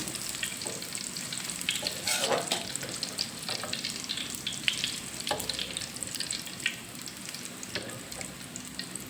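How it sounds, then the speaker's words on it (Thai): Thai fish cakes frying in hot oil, a steady close sizzle and crackle with scattered pops and faint utensil stirring throughout, without talk. "ตักออกใส่กระชอนแล้วก็ทอดใหม่ เราก็จะมาทอดใหม่"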